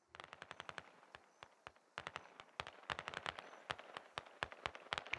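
Automatic gunfire in the SquadOps military video game crackles in rapid bursts of sharp shots, some tight clusters and some spaced single cracks, fairly distant and continuous across the span, with no voices.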